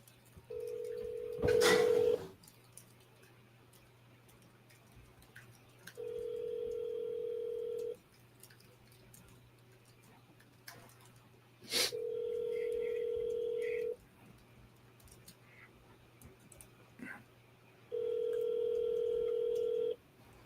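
Outgoing telephone call ringing back through a handset, four steady ring tones separated by silent gaps, faint and even, with a brief dialing blip at the start.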